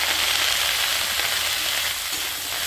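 Vegetables, snake gourd, go into hot oil with onion, garlic and fried dried river chela fish, giving a loud, steady, close sizzle that holds for the whole stretch with no voices.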